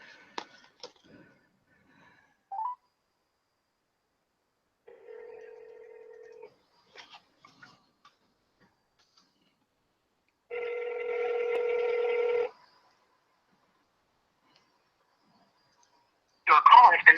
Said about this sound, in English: Why does she never pick up the phone?